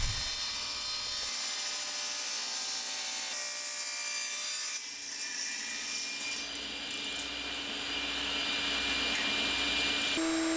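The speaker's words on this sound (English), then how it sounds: "So here I'm ripping down some material so I can make some blanks to make some dowel rods." A saw rips lumber into blanks for wooden dowel rods in a woodshop, a loud continuous cutting roar with dust-extraction hiss, close and steady throughout.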